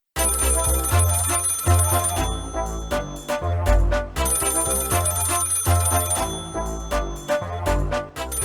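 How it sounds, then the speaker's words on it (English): A phone call rings out while connecting, a loud repeating electronic ringtone in two long bursts separated by short gaps, close and clear with no voices. "Connecting call."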